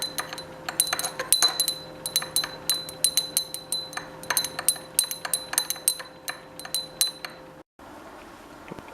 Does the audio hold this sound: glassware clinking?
yes